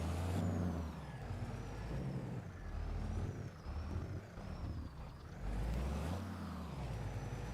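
A truck in Farming Simulator 22 idles with a steady, loud low engine drone, with bursts of air-brake hiss at the start and again near the end.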